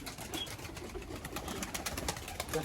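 Pigeons cooing softly nearby, low repeated calls over a background of scattered rustling and distant noise.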